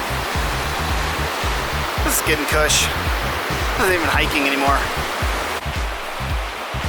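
The San Joaquin River rushes through a canyon along the John Muir Trail, a loud continuous roar of water with hikers talking over it.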